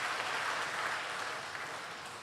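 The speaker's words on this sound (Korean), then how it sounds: "박수 한번 찬양단위에서 보내주시기 바랍니다" Congregation at an evening prayer service applauding the worship team, a sustained crowd clapping that stays moderate then gradually thins and softens.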